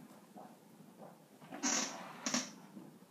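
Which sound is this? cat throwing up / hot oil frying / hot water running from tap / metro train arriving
cat throwing up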